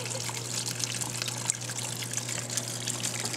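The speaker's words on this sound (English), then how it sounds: "because there's so much water flow, it actually comes down that wall right there" Steady trickling and splashing of water running down the wall of a dart frog vivarium, a continuous close wet patter over a low constant hum from equipment.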